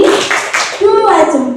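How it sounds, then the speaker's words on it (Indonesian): A group performs the Indonesian 'tepuk salut' clapping routine, with close, loud rhythmic hand claps mixed with chanted voices. "mari kita tepuk salut lagi, tepuk salut"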